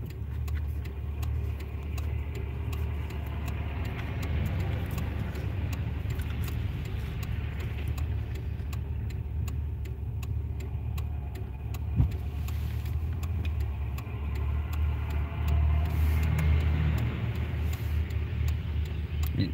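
Trucks roll past on a rough road south of Champaign, a steady low engine rumble and tire noise heard from inside a stopped vehicle, with a brief knock midway.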